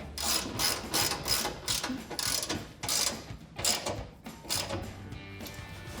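A ratchet tightens the front bumper skid plate bolts on a 2021 Ford Bronco, giving rapid clicking bursts in several short runs with brief pauses between them, close up and with no talking.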